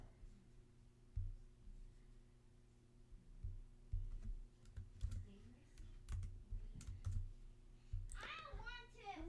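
Fingers tap out a password on a computer keyboard in a quiet room, scattered soft key clicks over a low hum, with a voice briefly heard near the end.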